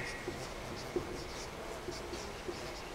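A pen scratches on paper in faint, quiet strokes with small taps, steady in the background of a classroom addition exercise.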